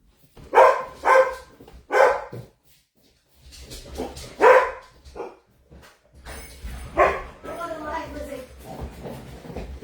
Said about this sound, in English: I am sorry about my dogs.